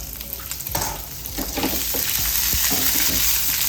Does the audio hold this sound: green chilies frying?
yes